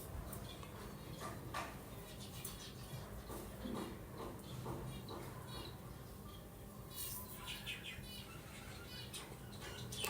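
Busy, overlapping chirps and tweets from many budgerigars in an aviary, steady throughout, with some background voices mixed in.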